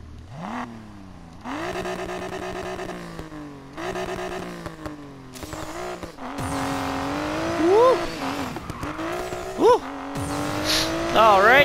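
A Nissan Skyline R32 engine in the racing game Need for Speed Payback revs repeatedly, rising and falling in pitch, building to higher, louder revs with sharp climbs toward the end, heard alone without talk.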